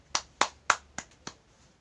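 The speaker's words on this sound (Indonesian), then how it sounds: "Tepuk tangan untuk kelompok 3" Schoolchildren in an elementary classroom clapping for a group, heard as five sharp, separate claps spaced fairly evenly and close by, ending in quiet.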